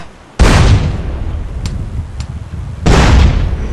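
Two loud, sudden booming explosions in GTA, one near the start and another later, each decaying into a rumbling tail, with faint clicks between.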